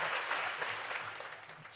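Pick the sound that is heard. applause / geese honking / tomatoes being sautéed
applause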